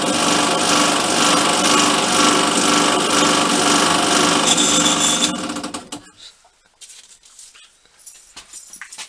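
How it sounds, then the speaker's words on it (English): Sandpaper rubs loudly against a spinning turned part on a homemade lathe, a harsh continuous rasping close by for about six seconds, then dropping to faint scattered scrapes and handling noises. "clean it up with a bit of sandpaper"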